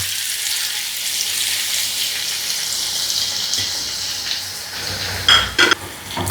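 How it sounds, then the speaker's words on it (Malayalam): Sliced onions fry in hot vegetable oil for mutton dum biryani, giving a steady, even hiss with a few sharp clinks near the end. "അപ്പോൾ നമ്മൾ അരിഞ്ഞു വെച്ചിരിക്കുന്ന സവാള അതിലോട്ട് എടുത്ത് വറുത്തെടുക്കണം"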